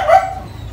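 A single short dog bark, fairly close and clear, followed by a brief fading tail.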